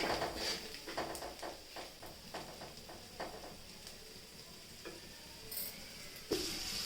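Spices with a spoonful of coriander powder sautéed in a pan give a steady low sizzle, broken by repeated scraping and stirring clicks near the start and scattered taps later, with no voices.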